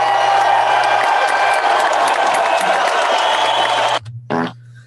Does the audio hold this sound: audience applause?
yes